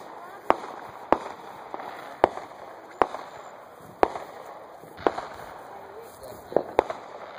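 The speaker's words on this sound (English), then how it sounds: "Shots here, little rockets." Small firework rockets being fired at a backyard show, a string of about nine sharp pops spaced roughly a second apart, fairly close and loud over low background noise.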